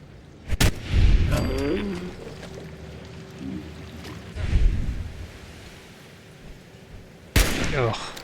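Gunfire rings out in the video game Fallout 4, with several sharp, loud shots spaced across the moment, separated by quieter stretches of ambient game sound and a steady hum.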